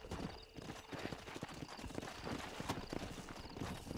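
Rapid, rhythmic hoofbeats of a galloping horse in Red Dead Redemption, steady and prominent, with a faint whinny mixed in amid game background noise.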